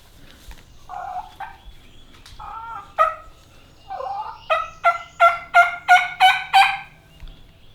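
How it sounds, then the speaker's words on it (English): Wild turkey gobbling outdoors, a loud series of rapid, rattling gobble bursts that build into a rhythmic run of about seven close calls, preceded by scattered clucks and yelps, with no talk. "That's a pretty good call."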